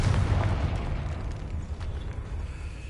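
A Confringo fire spell goes off in Hogwarts Legacy, a deep rumbling blast with low booming bursts that fade into a steady roar and crackle, fairly loud and with no talk over it.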